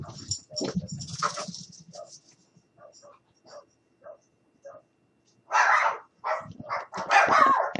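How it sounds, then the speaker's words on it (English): Several pet dogs bark in short excited bursts indoors, sparse yips early, then louder clustered barking near the end. "I am sorry about my dogs barking."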